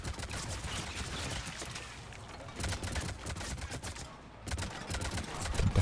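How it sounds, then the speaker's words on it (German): Gunfire in the video game Mass Effect 3, heard as bursts of rapid shots and scattered single cracks, moderately loud, with short lulls between volleys. "Nicht so einfach, wenn man von allen Seiten beballert wird."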